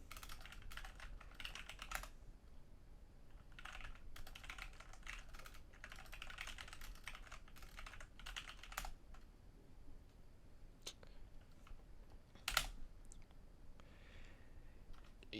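A computer keyboard typed on in bursts of quick clicking keystrokes with short pauses, close but quiet, ending in a sharper single key press.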